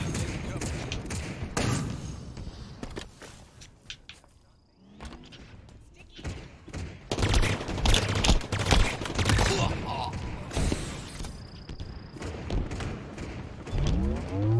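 Pulse carbine fire in Halo Infinite on Xbox: loud, rapid bursts of shots and heavy thuds crowd a busy multiplayer battle, with dense game effects layered throughout.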